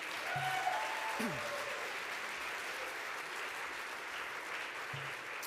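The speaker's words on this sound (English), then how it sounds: "Let's give a round of applause to all the nominees this evening." Sustained audience applause for award nominees at a hospital radio awards evening, a steady broadband patter of many hands filling the room for several seconds, with a few brief voices or tones poking through.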